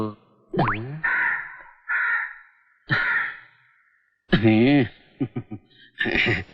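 A crow caws several times in harsh bursts, close and loud, with pauses between calls and a voice briefly heard near the end.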